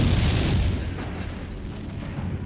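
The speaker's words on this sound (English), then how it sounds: "At the same time, American tanks were shooting on us." Heavy rumbling blast from World War II tank cannon fire at the Battle of the Bulge, one dense boom rolling into a long decaying roar, loud and close.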